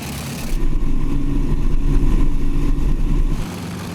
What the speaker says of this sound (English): we'll run it, check the engines and props and all that out